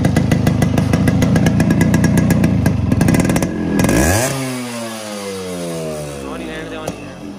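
Restored Yamaha RX 100 motorcycle engine revving loudly up close, rapid two-stroke firing that rises, then the revs are released and the pitch sweeps down to a settling idle.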